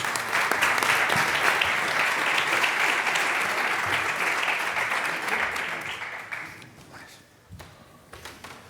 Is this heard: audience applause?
yes